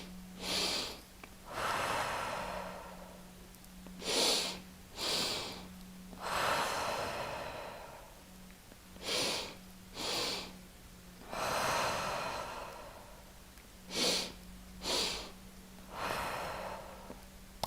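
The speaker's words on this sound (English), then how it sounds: "Okay, continue breathing." A person doing a breathing exercise takes deep, forceful breaths through the nose and out the mouth in a steady rhythm, loud close-up inhales and exhales alternating with short pauses, along with a faint low hum.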